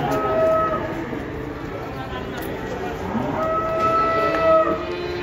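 Two drawn-out moos from a cow loose from a truck sound at moderate distance, one early and one later, over a murmur of background chatter.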